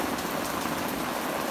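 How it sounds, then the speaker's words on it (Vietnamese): Steady rain falling on a street in Nha Trang, a dense, even hiss of drops on hard surfaces filling the whole stretch with no break, close and constant. "bán ngô chè của cô này đang mưa này."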